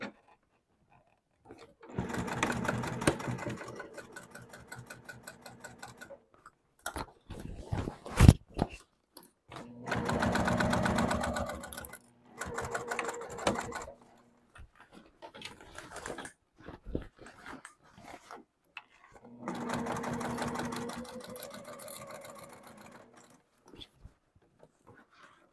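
A sewing machine stitches side panels onto a cork backpack in several sustained runs of rapid, even needle chatter, separated by quiet pauses and a few sharp handling knocks.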